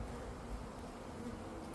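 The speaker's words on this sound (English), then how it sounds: "We have bees!" Honeybees freshly installed in a new hive hum in a dense, continuous buzz, close and steady, with no talking over it.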